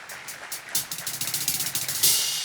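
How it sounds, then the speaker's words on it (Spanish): Church congregation applauding, a rapid run of claps building from scattered hands into fuller, brighter applause at moderate distance. "Den un aplauso a Dios por esa tremenda palabra."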